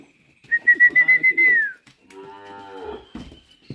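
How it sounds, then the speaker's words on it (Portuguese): A cow in a farm corral moos loudly and close by, one long wavering call followed by a lower, rougher second moo, with no talking over it. "Aqui é a vaca do meu pai."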